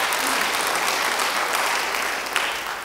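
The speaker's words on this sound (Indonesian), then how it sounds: "Beri tepuk tangan bagi dia." Applause from a church congregation for a pastor fills the whole stretch, a dense steady patter of many hands that holds level and fades slightly near the end, with no voices over it.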